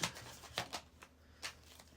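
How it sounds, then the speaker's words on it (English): Tarot cards being shuffled by hand, a few quiet, quick riffling and slapping bursts spaced unevenly over two seconds, close and soft with no talking. "Let me cleanse it out and shuffle it."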